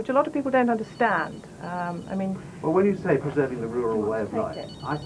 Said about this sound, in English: I'm terribly sorry, that's my phone again.